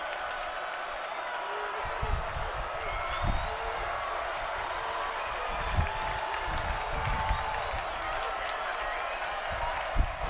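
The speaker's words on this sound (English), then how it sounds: "Crowd clapping" Stadium crowd at a college football game between Bowling Green and Old Dominion, clapping and murmuring as a steady, fairly distant wash with occasional louder claps, under a faint background hum.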